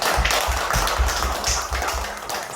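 Church congregation clapping together after a Korean Sunday worship service, a steady dense patter of many hands close by, without voices over it.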